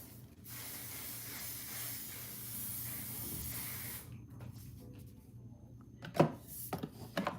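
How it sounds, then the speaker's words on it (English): Hair spray from a spray bottle: a long continuous hiss for about four seconds, then quiet room sounds with a few soft handling knocks near the end, no talk. "This is today's spray."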